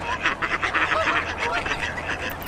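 A duck quacks in a quick series of short, nasal calls, close and clear, repeating rapidly for a couple of seconds with no talk over it.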